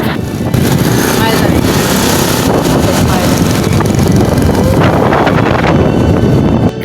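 Strong wind roars across the microphone on a moving ferry, a loud, steady rushing blast mixed with low engine rumble that holds for several seconds before dropping off.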